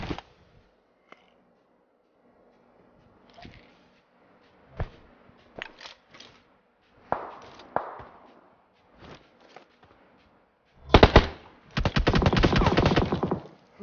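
Gunfire from the mobile battle-royale game PUBG Mobile: scattered single shots and short bursts early on, then a dense, loud rapid-fire burst near the end, with no talking.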